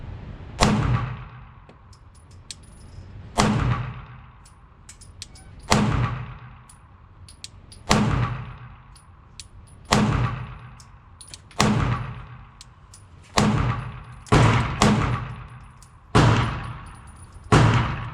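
Walther PDP Pro SD and Glock 17 pistols firing 115 grain 9mm rounds at a range, about a dozen loud sharp reports spaced a second or two apart, some in quick pairs, each with a ringing decay.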